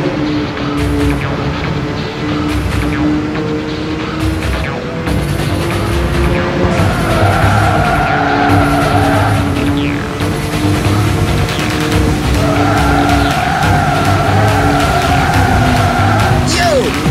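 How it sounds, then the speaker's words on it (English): Race cars in a Ridge Racer V Grand Prix on PS2 roar past the starting line, layered engine drones rising and falling in pitch over a loud continuous mix with game music. "The cars are streaming past the starting line."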